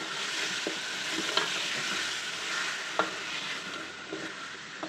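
Chicken being sautéed with onion paste for a potato chicken curry, a steady close sizzle with a few scattered scrape and stir clicks from the pan.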